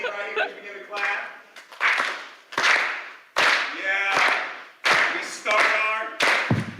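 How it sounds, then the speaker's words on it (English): Staff at a morning huddle clap together in a rhythmic pattern, with sharp group claps in short bursts, brief gaps and a few voices mixed in. "Follow the beat right here as we begin to clap."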